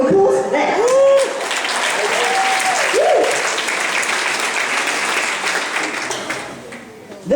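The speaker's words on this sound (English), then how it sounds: "Can we have another round of applause for that?" An audience gives a long, loud round of applause, the dense clapping holding steady throughout while a few voices call out over it at the start.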